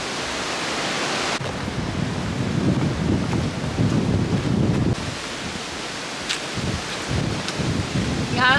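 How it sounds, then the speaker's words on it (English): Strong wind buffets outdoors in heavy rushing gusts that rise and fall, roaring close against the microphone with no clear speech. "So it is beautiful, but it's also really windy."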